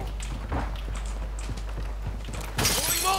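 Something breaks in Call of Duty Warzone: after a stretch of quiet footsteps and shuffling, a sudden bright shattering crash rings out near the end, loud and close.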